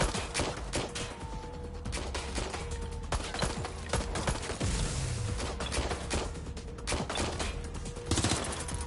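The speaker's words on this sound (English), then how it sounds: "Shots fired!" Gunfire in the video game Watch Dogs Legion: dense, continuous bursts of shots crack and rattle throughout, loud and close, with sharp individual reports standing out over a busy background of game effects.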